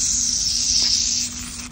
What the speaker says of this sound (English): spray some green on it